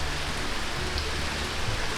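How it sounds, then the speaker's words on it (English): Heavy rain falls with a dense, continuous hiss and patter that stays loud and steady throughout, with no voices. "This is what we woke up to the next day. Lots of rain."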